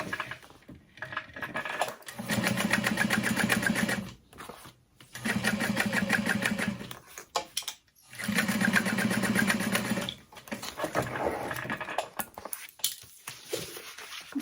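A sewing machine stitches pieces of a cross-body sling bag in three long whirring runs, close and steady, separated by short pauses with faint handling noise.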